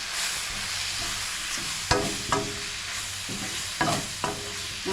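Turmeric, coriander and chili powder sizzle steadily in a hot pan for an okra tamarind curry, with a spoon scraping and stirring in several distinct strokes over the constant frying hiss.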